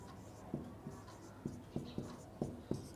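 A pen writes on paper during a geometry lesson, giving a series of short faint scratching strokes at an uneven rhythm, close by and quiet.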